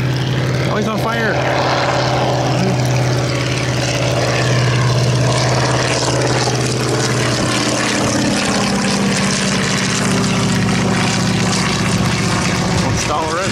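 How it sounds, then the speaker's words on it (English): A propeller-driven antique airplane makes a flyby at a rainy airshow: a loud, steady engine drone holds, then shifts in pitch as it passes, with talk heard over it. "a flyby is always cool"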